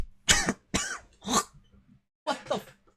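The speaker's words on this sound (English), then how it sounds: "That made me cough up." A person coughs close to the mic in about five sharp, raspy bursts: three spaced out, then a quick pair after a short pause.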